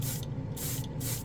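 An airbrush sprays acrylic paint in three short, even bursts of airy hiss, each one about a third of a second long, close up with no talking.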